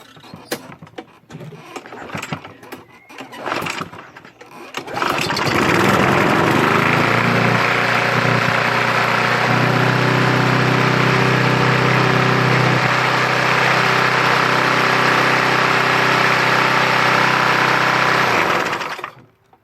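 After a carburetor repair, a Briggs & Stratton lawn mower engine first gives a few rough tugs and clatters, then roars into a loud, steady, close run that holds for about fourteen seconds before cutting off, with no talking.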